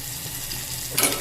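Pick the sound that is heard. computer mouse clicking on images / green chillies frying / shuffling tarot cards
green chillies frying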